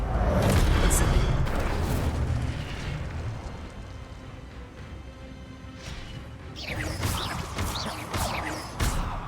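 Incendio fire spell cast in the video game Hogwarts Legacy, a loud roaring, crackling blast that fades over several seconds, followed by another burst of combat impacts, with a player voice faintly underneath.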